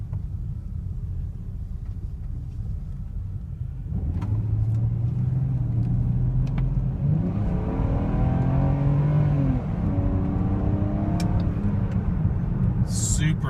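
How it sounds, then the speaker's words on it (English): A car accelerates hard to the redline, its engine note climbing in pitch, dropping at each quick gear shift and climbing again, loud and steady from inside the vehicle. "that was a full hard acceleration at red line"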